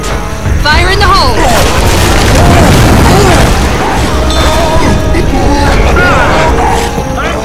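A grenade blows up in a video game, a loud, sustained boom with crashing debris that fills the scene, while voices call out over the blast.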